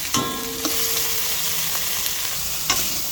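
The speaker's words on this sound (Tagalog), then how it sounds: "lutuin maigi ang kamatis mga kagigil ano, para lumabas yung kanyang sarap" Tomatoes sauté in a pan with a steady close sizzle and frying crackle, broken by a few sharp clinks and scrapes of a utensil stirring against the pan.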